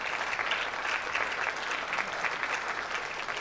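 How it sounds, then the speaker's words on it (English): A conference audience at a summit session claps in a sustained round of applause, dense and steady from start to finish with no voices rising above it. "Give yourselves a round of applause for being freaking awesome."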